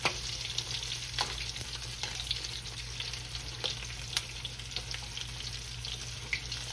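Shrimp deep-fry in hot oil, a dense steady bubbling sizzle up close with scattered sharp crackles and pops across the whole stretch.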